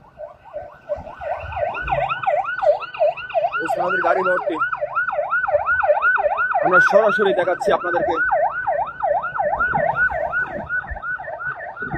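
Ambulance siren wailing in a steady, rapidly repeating up-and-down pattern as it approaches a street junction amid traffic, loud and continuous throughout, with someone talking over it.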